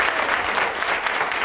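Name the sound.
audience applause at a scholarship banquet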